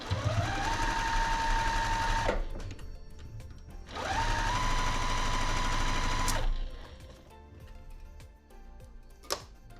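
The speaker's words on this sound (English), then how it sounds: "Take this out right before my needle goes over it." Sewing machine stitching quilt pieces for a blue pinwheel quilt, running in two steady bursts of rapid, even stitching, each a couple of seconds long, separated by a pause with faint handling clicks and a sharp tap near the end.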